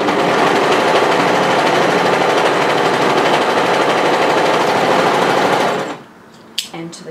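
An overlocker stitches a seam on woven fabric for a cape in a loud, continuous rapid whir, then stops abruptly near the end, leaving a few faint clicks.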